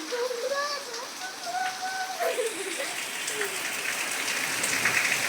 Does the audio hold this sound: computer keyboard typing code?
no